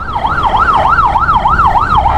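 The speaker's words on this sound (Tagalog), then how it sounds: "May ambulansya." An ambulance siren wails in traffic on a motorcycle ride loop, its rising and falling tone cycling steadily and loudly over road rumble, with no talk.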